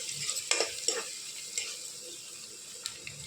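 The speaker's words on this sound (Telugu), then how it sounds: "ఇందులోనే తగినంత పసుపు వేసుకుందాము. పసుపు పచ్చివాసన పోయేదాకా వేయించుకోవాలి." Turmeric fries with onions and green chillies in a pan, a continuous close sizzle broken by several scraping stirs of a spatula early on, then settling into a softer steady hiss with occasional light clinks.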